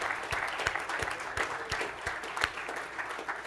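An audience claps steadily for a staff member at a BU program event, dense applause filling the room with a few sharper individual claps standing out, with no talk.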